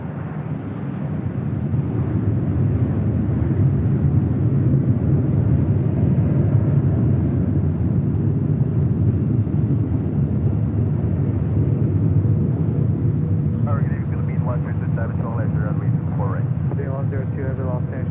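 An airliner taking off from runway 2 left at Los Angeles International Airport, a steady loud low roar of jet engines held for the whole stretch, with faint chirping birds breaking in near the end.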